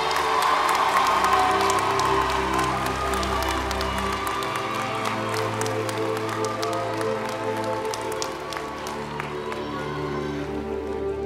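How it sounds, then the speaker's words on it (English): Audience at a Michigan BPA dinner session bursts into sustained applause with cheers and whoops, a loud, dense wash of clapping that holds steady for about eleven seconds. "Let's give them a round of applause."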